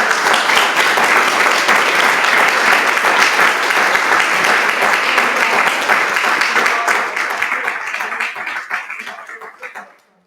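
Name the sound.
audience applause for candidates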